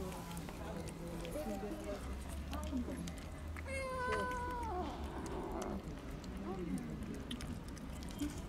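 A sick, skinny kitten in pain gives several thin, plaintive meows, a cluster of rising and falling cries in the middle, over low steady background noise close by.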